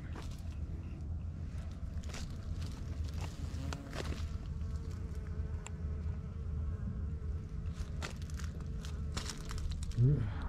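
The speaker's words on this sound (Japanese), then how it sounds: "虫の声がするんだけど。" Faint insects buzz steadily in a park of blooming azaleas in Matsue, Shimane, with soft footsteps and distant ambient noise underneath.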